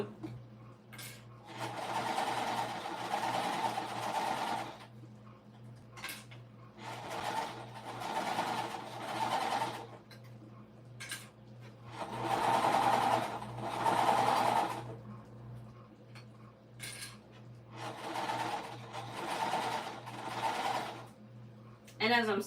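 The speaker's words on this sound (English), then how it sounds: "And as I'm sewing, because I can see the basting stitch on the top, I'm just making sure that it falls in my seam allowance" Sewing machine stitching a puff quilt pillowcase, several short bursts of whirring separated by pauses, fairly quiet, with someone talking in between and over the stitching.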